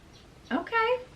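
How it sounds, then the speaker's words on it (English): A bird calls outdoors, a short harmonic chirp followed by a sustained whistled note, heard close and clear over a quiet background. "Never heard that bird before in my life out there."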